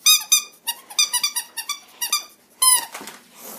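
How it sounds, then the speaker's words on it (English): Rubber squeaky dog toys squeezed in a quick series of sharp, high squeaks, about nine bursts in uneven rhythm, close and loud, with no talking. "all of these but one, which is the bone, makes a squeaking sound."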